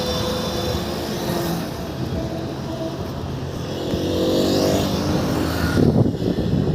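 A TVS two-wheeler engine drones steadily nearby, a continuous buzzing motor sound that swells louder toward the end amid road noise.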